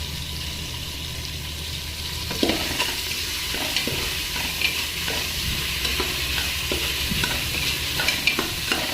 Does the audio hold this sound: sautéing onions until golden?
yes